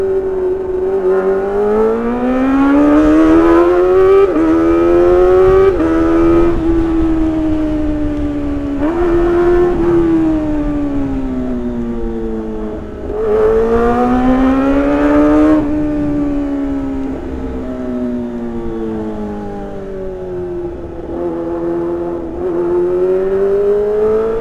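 A Kawasaki ZX25R motorcycle engine is revved repeatedly up close, loud high-pitched four-cylinder wails rising and falling in several long blips over about twenty-four seconds without pause.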